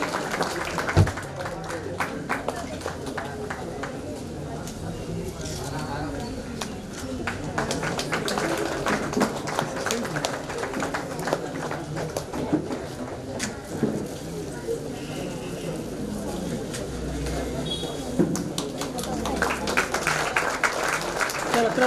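Audience of students and teachers applauding student achievement at a school Founder's Day event, sustained crowd clapping lasting about twenty seconds with voices mixed in throughout.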